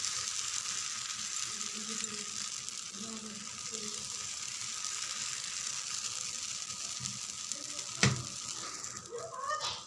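Dosa batter frying in oil on a hot pan, a steady broad sizzle running throughout with a faint clatter of a utensil near the end.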